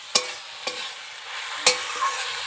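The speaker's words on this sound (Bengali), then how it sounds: "শাক ভাজাটাও প্রায় হয়ে এসেছে।" Leafy greens, a mix of fourteen kinds, fry in a pan over a clay stove, giving a faint steady sizzle broken by three or four sharp scrapes of stirring.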